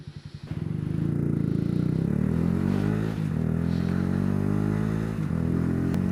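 Honda Grom motorcycle under way, its engine a steady loud drone with harmonic revving rising and dipping, wind buffeting throughout after a brief quieter start.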